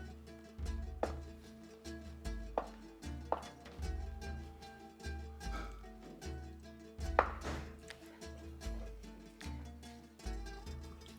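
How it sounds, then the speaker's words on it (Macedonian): A fork crumbles white cheese in a dish, knocking out soft, regular thuds roughly once a second over a low, quiet musical backdrop. "Сега, исто со една вилушка, ќе си го надробам сиренцето."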